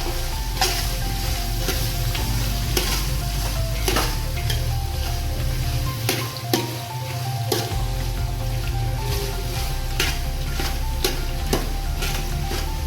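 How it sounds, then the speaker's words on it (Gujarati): Steady, loud sizzling of spices frying in hot oil and ghee for khichdi, with occasional stirring clicks and no talking. "તેલ અને ઘીનો આપણે સંયુક્ત વઘાર કર્યો છે"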